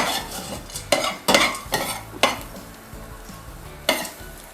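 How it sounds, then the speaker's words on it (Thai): Garlic, pepper and coriander root stir-fried in a pan give a steady sizzle broken by several sharp scrapes and clatters of the spatula against the metal, close and clear, with no talking. "ผัดให้ทุกอย่างส่งกลิ่นหอมเลยค่ะ ตอนนี้ก็เริ่มมีกลิ่นหอมของกระเทียม พริกไทยแล้วก็รากผักชีแล้วนะคะ"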